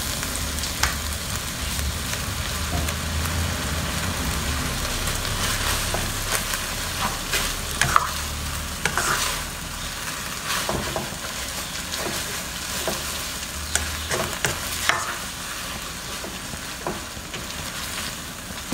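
Pad thai being stir-fried in a hot pan gives an even sizzle with scattered scrapes and clinks of the spatula, close up and steady, with no speech.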